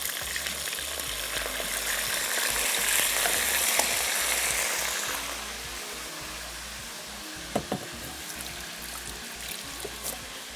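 Chicken frying in a pan with chillies and cumin over low heat, a steady close sizzle with bursts of crackle and occasional stirring clatter, continuous and with no talk.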